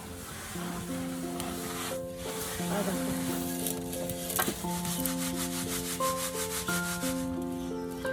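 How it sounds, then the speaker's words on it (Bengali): Puffed rice (muri) being dry-fried and stirred in a pan, a steady scraping, rustling rub running throughout, with a tonal musical drone and occasional voices in the background. "এই দেখো আমি মুড়ি ভাজছি"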